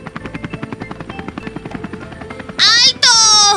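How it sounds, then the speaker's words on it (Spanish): Cartoon helicopter on a helipad with spinning propellers: a rapid rhythmic chopping beat, followed by bright whooshing tones near the end. "No pueden pasar a la plataforma hasta que las hélices del helicóptero hayan dejado de girar."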